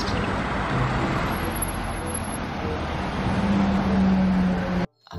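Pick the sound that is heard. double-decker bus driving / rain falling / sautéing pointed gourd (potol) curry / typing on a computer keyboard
double-decker bus driving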